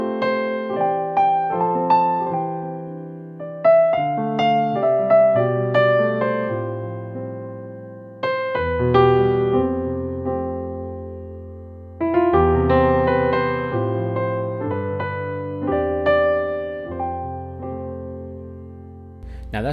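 Solo piano improvises playfully around Twinkle Twinkle Little Star, with clear struck notes and chords in phrases separated by brief pauses, sustained decays ringing out, close and unaccompanied.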